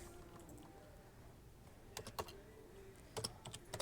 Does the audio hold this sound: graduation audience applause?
no